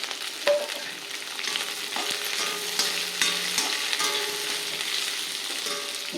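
Onions fry in a pan with a steady close sizzle, while a spoon stirs them and scrapes the pan in repeated irregular strokes, with no talking.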